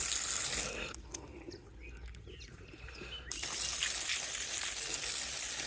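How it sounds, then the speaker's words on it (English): Water from a garden hose running off a tap with weak pressure, a steady broadband gush that drops away briefly in the middle and then returns at full strength. "We will now try that with the tap in the on position."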